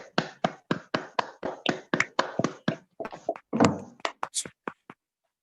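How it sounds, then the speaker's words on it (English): Clapping at a prize-giving, heard as a series of distinct, evenly spaced hand claps, close and crisp, thinning into a few irregular claps and brief vocal sounds before going quiet. "Everybody clap for her."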